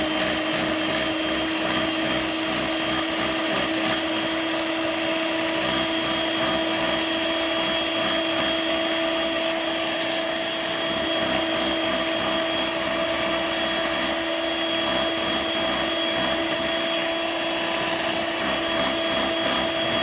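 An electric mixer beats eggs for a chocolate mousse during a cooking class, giving a loud, steady motor whir that runs unbroken from start to finish with no talking.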